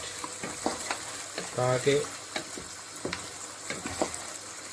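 Ginger garlic masala frying for nihari in a home kitchen, a soft steady sizzle with scattered stirring clicks and scrapes, close but fairly quiet, a brief word spoken over it.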